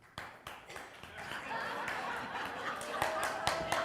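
Audience clapping builds over a few seconds in a church hall, scattered claps thickening into steady applause with some laughter, moderately quiet and somewhat distant.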